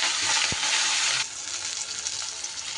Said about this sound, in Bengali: বাকি আরও 2 পিস মাছ আমি ভেজে নেব।